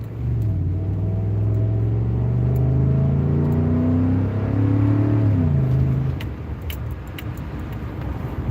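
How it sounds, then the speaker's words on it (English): A Ford F-150's 5.0-liter V8 engine idles nearby with a steady low rumble, its pitch drifting slowly upward before dropping back, followed by a few faint ticks. "She's idling good now."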